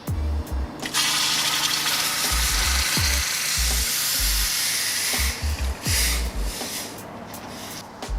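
Hot water poured into a charcoal grill's drip pan hisses and sizzles into steam, a loud continuous roar broken by low thumps and splashes, close and alone.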